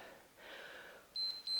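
A workout timer beeps at the end of an arm exercise interval, with two short, faint electronic tones over quiet background hiss.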